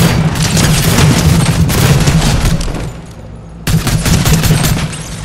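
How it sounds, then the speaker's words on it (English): Rapid gunfire in the Fortnite video game rattles in dense, overlapping volleys, loud and continuous, with a brief lull before another burst of shots. "Who's shooting me from behind?"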